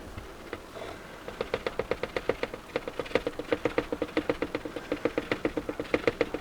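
Jesmonite powder stirred into its liquid in a mixing cup for a candle holder, a steady run of quick, even scraping taps, close and fairly quiet, with no talk.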